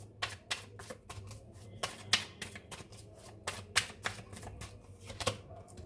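Tarot cards are shuffled and drawn, giving a close run of quick, sharp card taps and flicks in an uneven rhythm, loud against a faint background hum.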